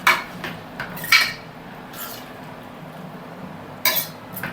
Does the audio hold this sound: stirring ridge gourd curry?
yes